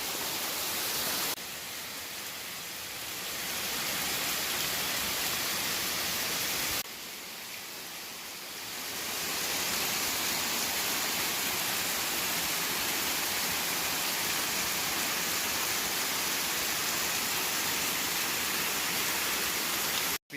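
A waterfall in the Portland countryside roars as a constant, dense rush of falling water, loud and unbroken, with a couple of brief dips in level early on.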